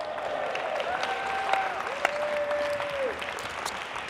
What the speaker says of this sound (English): Give Julie a big round of applause.